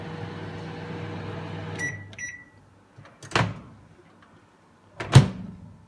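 A Samsung MG23K3575AK 23-litre microwave with grill runs with a steady low hum, broken by a couple of short beeps and two louder door or latch clunks close by.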